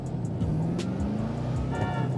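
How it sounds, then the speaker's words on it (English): A 2020 HellCat car in GTA 5 idles and rumbles with low exhaust tones, a steady engine drone with faint pops and crackles scattered through it, moderately loud throughout. "The exhaust just clapped back on some people. Pop, pop, pop, pop, pop."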